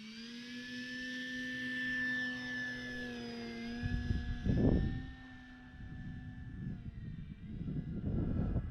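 A Carbon Z Cub SS radio-controlled airplane flies overhead, its electric motor a steady whine that shifts in pitch as it passes, with wind buffeting and rumble near the microphone.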